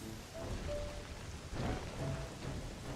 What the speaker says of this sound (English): Oh, it rains here, too.